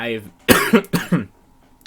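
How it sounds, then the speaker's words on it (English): Several sharp coughs from a person at a local card game tournament, a short burst then two more separate hacks, close and loud, with no speech between them. "so sorry about the coughing"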